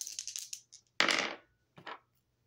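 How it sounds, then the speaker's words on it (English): Dice rolled for a card reading clatter in a quick run of small taps. A single sharper tumble follows, then one last brief rattle, all close and alone. "rolling the dice to see what I need to shuffle a deck to"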